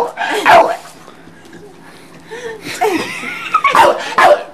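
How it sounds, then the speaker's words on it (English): Excited dog barking in several sharp bursts, loud and close, amid yipping and whimpers, with a person's voice calling nearby. "No barking!"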